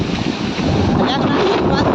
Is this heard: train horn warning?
no